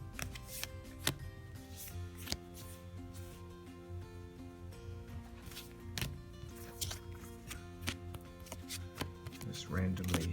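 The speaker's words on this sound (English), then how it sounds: "Now I'm only able to shuffle with one hand because I'm holding the camera." A tarot deck shuffled one-handed gives a run of soft, irregular card clicks and riffles, close and quiet, over faint sustained background tones.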